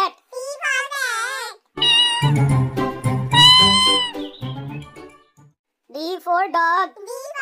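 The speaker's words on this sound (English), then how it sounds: "C for cat." A cat meows a few times among sung children's voices in a phonics alphabet song, each meow short and clear over the melody.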